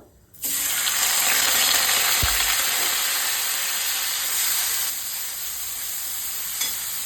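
Grated onion drops into hot oil with whole spices, bay leaf and dried chilli, bursting into a loud, continuous hiss of sizzling that holds steady and eases only slightly toward the end.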